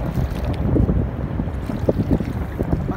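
Steady wind buffets a boat on Manila Bay, with a low rushing roar and gusty rumbles against the microphone, plus faint water movement underneath.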